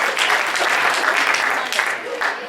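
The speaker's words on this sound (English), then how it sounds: "Give them a round of applause." Banquet audience at a chamber of commerce recognition dinner applauds after a skit, a full, steady wash of clapping from a room of diners lasting a couple of seconds.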